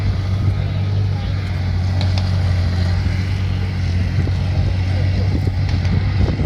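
A Comet tank engine idles with a deep, steady rumble close by, a continuous low drone with faint clanks and rattles on top.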